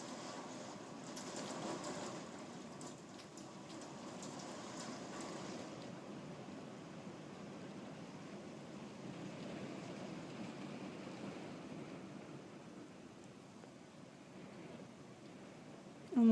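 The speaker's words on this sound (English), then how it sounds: "There's a huge rainstorm at the moment." A heavy rainstorm outside, heard as a steady, faint, broadband wash of rain noise that continues for the whole stretch with no one speaking.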